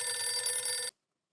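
A telephone bell rings once in a bright, sustained electronic trill for under a second, then cuts off abruptly to silence, in a household scene from Taarak Mehta Ka Ooltah Chashmah.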